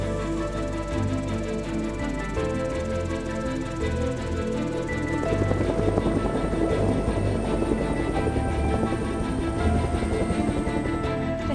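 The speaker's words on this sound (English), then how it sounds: "As the chopper pulls away" A helicopter lifts off and pulls away in the Monashee Mountains near Revelstoke after a heli-skiing drop, its steady rotor and engine drone loud and continuous, turning rougher and more broadband partway through.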